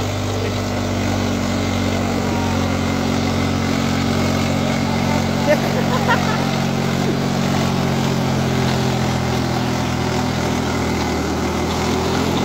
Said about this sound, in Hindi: 3 सिलेंडर ट्रैक्टर है भाई।